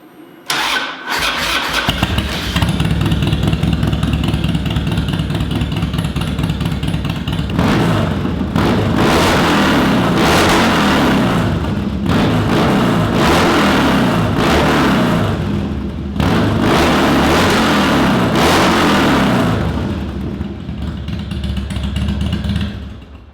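Harley-Davidson Dyna motorcycle engine cranking and firing up, then running loud and close with a throaty lumpy idle and several rhythmic revs blipping through, continuing for over twenty seconds without speech.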